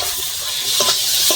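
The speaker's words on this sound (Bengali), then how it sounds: "ভেজে রাখা আলু আর মোচাটা দিয়ে দিচ্ছি। ভালো করে নেড়ে চেড়ে কষিয়ে নেব।" Fried potato and banana flower are stir-fried with chili powder in a hot pan, producing a loud, continuous hissing sizzle with soft scraping sounds as the mixture is turned.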